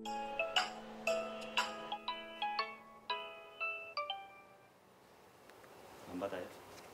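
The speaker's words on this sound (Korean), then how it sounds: "할머니 이순자 씨에게 전화를 거는 우원 씨." An outgoing phone call plays a bright, electronic ringback melody of repeated chiming tones in a steady rhythm, fading after a few seconds into quiet room noise with a faint murmur at the end.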